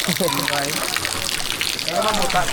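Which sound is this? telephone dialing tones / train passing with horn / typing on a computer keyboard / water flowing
water flowing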